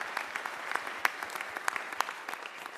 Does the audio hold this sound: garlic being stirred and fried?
no